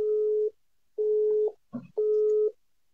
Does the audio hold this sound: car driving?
no